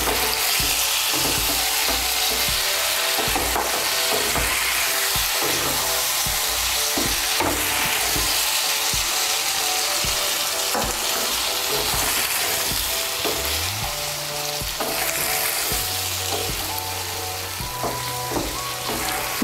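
Potatoes and cauliflower stirred with spices in a pan sizzle continuously, with steady scraping and clinking of the spoon against the metal throughout.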